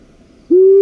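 A single loud, close owl hoot from a Montana recording, a steady tonal call that begins after a moment of near silence and holds clearly.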